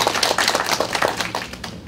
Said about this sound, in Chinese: 大家给他掌声哈